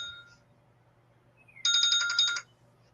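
A phone's electronic ringtone cuts into a quiet room, a bright warbling burst lasting under a second before stopping, with no talking.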